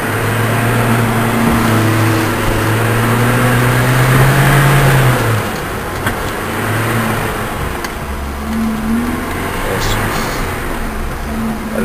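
A car engine starts and revs near by, rising in pitch before dropping back to a rough idle that keeps running, with voices talking over it.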